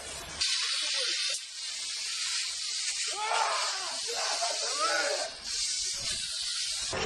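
A fire extinguisher sprays in loud, continuous hissing bursts, with a brief pause and rough, shifting texture throughout, and voices faintly shouting underneath.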